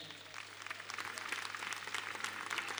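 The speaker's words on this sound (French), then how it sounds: "Je vous prie de m'aider à remercier et à applaudir très chaleureusement M. Valère Kakaï Glélé" Applause from the audience at the Benin Top 10 awards ceremony as the official sponsor is thanked, fairly faint clapping that builds slightly and holds steady over a faint constant hum.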